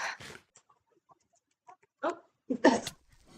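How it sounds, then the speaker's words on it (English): Dogs bark indoors at home, a few short, loud bursts separated by quiet gaps, the last cluster the strongest. "now you can hear the dogs"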